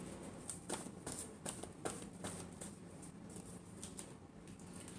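Tarot cards riffle and patter through a shuffle in quick, irregular bursts of soft papery flicks, fairly close and quiet, with no talking over them.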